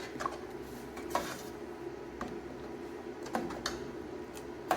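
Green banana and green plantain porridge thickening in a pot, stirred with a utensil that gives occasional light clinks and scrapes against the pot over a steady low background, with no talking.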